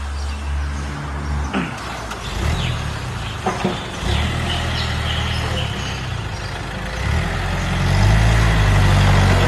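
A used Yanmar 49 hp farm tractor engine running steadily, a loud, close diesel rumble with a continuous low drone and a few brief higher mechanical squeaks, rising slightly in level toward the end.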